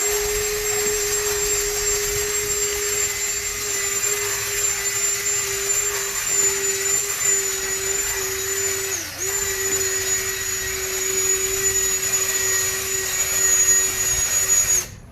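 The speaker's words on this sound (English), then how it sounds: "So we're going to use the drill again." A power drill scrubbing carpet whirs steadily with a high-pitched motor whine, briefly dipping once as it bogs down, near and continuous with no talk.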